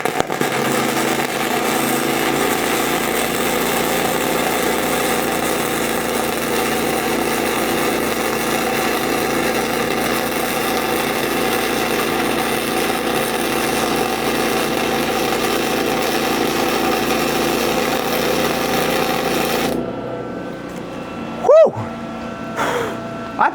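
An ArcCaptain MIG 250 welder lays a tack weld on a table with a loud, steady crackling buzz that runs for about twenty seconds, then stops abruptly, leaving quieter handling sounds.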